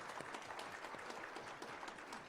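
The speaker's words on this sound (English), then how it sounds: "Another round of applause as they exit the stage." Faint, distant applause from a conference audience as panelists leave the stage, a steady crowd of clapping hands without a break.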